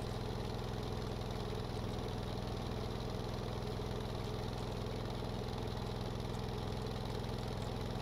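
A helicopter engine in the game Stormworks runs at a steady, quiet drone with an even low-pitched throb and rapid mechanical pulsing, continuous throughout with no talk.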